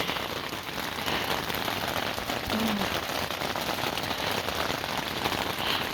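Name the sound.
heavy rain pouring on a tent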